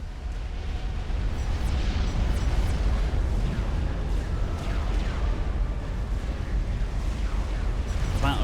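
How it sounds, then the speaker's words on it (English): Battleship artillery pounding an enemy base in the Supreme Commander strategy game, a dense, continuous rumble of overlapping booms and blasts at steady loudness, with a commentator's voice running over it. "Battleships pummeling Kretin's base"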